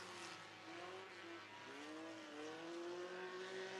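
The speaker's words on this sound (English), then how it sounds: "You got the 2 Love Bugs going at it on the speedway in hot lap qualifying" Race cars roar around a speedway during hot lap qualifying, a distant but sustained engine drone with rising pitch as the cars accelerate down the track, faint and continuous throughout.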